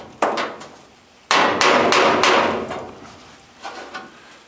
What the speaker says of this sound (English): Just giving it like a little pry, a little tap.